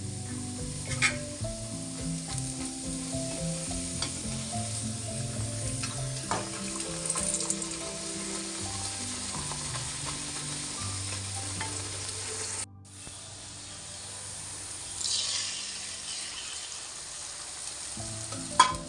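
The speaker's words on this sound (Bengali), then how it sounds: "তেল গরম হয়ে গেছে, একটা একটা করে লুচি দিয়ে দিচ্ছি" Luchi fry in hot oil with a steady, close sizzle and bubbling that continues throughout, with a few light clinks of a utensil against the pan.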